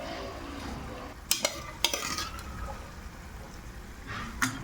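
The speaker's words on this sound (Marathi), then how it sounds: "आता या मसाल्यामध्ये अगदी 2 मिनिटासाठी हा परतून घ्यायचा" Soft boiled chickpeas being sautéed in spice masala for a chana masala, a low sizzle with a few sharp spoon scrapes and knocks against the pan, close and fairly quiet.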